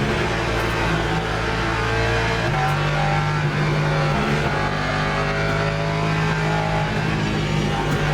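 Race car engine in the Le Mans Ultimate sim racing game, a steady loud high-revving drone with pitch steps as gears change partway through, continuous and close with no talk.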